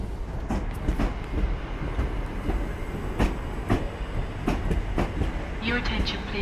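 Southern Railway unit 377135 runs through Redhill station with a steady rumble, rhythmic wheel clatter over the rail joints and faint high squeals from the wheels, heard at close range on the platform.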